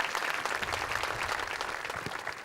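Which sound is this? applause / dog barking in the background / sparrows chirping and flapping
applause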